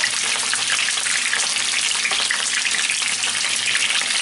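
Red and green peppers frying in a pan, a loud, dense, even sizzle and spatter that holds steady from start to finish with no voices over it.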